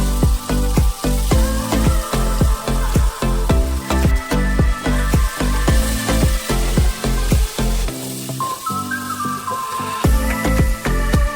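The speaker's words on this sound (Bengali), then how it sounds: "তারপর গ্রিন চিলি আর পেঁয়াজ তাতে দিয়ে দেব এবং ভালো করে" Green chilies and onion fry in hot oil with cardamom, bay leaf, cinnamon and cloves for a Bengali chicken curry. A steady, close sizzle runs throughout, with frequent sharp crackles and knocks of stirring and a brief lull partway through.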